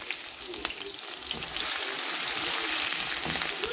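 Pepper steak stir-fried in a pot, stirred with a wooden spoon: a steady, close sizzle of frying meat that swells slightly louder partway through, with soft stirring scrapes and no talking.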